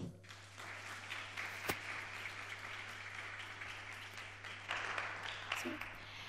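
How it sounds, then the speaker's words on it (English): Conference audience applauding speakers at a talk, a moderate sustained patter of clapping over a low electrical hum, swelling slightly near the end. "So please, your applause for Jona,"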